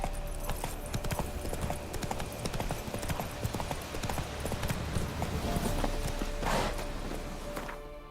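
Roach, the horse in The Witcher 3 video game, gallops with loud, fast, rhythmic hoofbeats that keep going without a break, with a faint background bed underneath.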